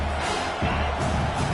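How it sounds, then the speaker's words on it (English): A football stadium crowd roars steadily behind the defense on third down, a dense, continuous wall of cheering noise that swells slightly partway through. "Decibels rising as the crowd gets behind this defense on 3rd down."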